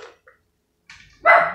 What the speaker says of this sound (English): If that dog start barking.